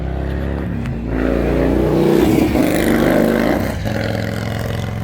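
A car speeds past on the road, its engine roar swelling to a loud, rushing peak midway and then tapering off as it moves away.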